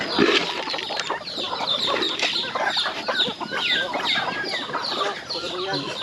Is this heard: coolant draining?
no